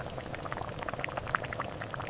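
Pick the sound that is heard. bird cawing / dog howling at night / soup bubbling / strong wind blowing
soup bubbling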